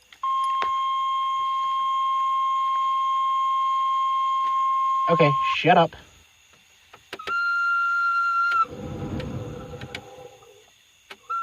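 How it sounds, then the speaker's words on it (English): An air conditioner switched on gives off a steady, clear whistling tone that runs for several seconds. A second, higher whistle follows after a brief clattering burst, and a person speaks briefly partway through. "Turn on my AC, listen to her whistle."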